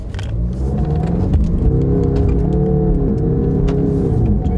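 A 2020 Land Rover Defender 110 accelerates at full throttle off-road, its engine a loud, close, steady roar with a droning tone that climbs and wavers as it pulls.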